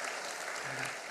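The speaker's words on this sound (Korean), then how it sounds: "선생님들에게 박수 한번 주시기 바랍니다." Brief audience applause for church teachers at a teacher dedication service in Yeosu, a steady wash of clapping from a congregation filling the hall.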